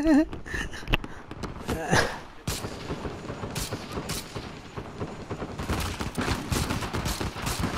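Gunfire in the video game Uncharted 4: A Thief's End, with repeated sharp shots and rapid bursts cracking through a dense, continuous battle din. A voice exclaims briefly near the start.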